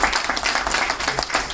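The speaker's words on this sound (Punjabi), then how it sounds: "ਆਪਾਂ ਇਹਨਾਂ ਦਾ ਤਾੜੀਆਂ ਮਾਰ ਕੇ ਇਹਨਾਂ ਦਾ ਇੱਕ ਵਾਰੀ ਅਪਲਾਡ ਕਰੀਏ।" Audience applause at a monthly medical association meeting: dense, continuous clapping from a seated crowd, steady and fairly loud throughout with no break.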